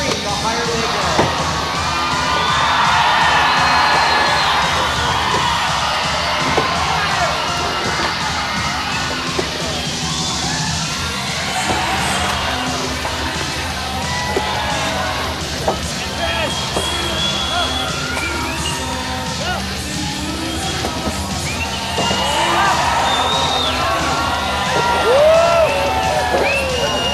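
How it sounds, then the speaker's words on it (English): At a 1986 Vancouver skateboard contest a large crowd screams and cheers, with whoops and yells rising and falling in waves and scattered shouts near and far, and people talking over the din. "the louder you scream, the higher they go"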